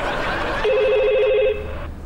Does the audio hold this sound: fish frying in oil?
no